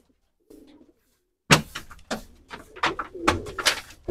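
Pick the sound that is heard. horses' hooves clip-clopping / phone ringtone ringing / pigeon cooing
pigeon cooing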